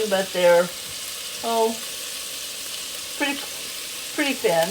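Chopped onion and coarsely cut celery sizzle steadily in the bottom of a pan while being stirred, a constant close frying hiss that runs beneath a man's intermittent speech.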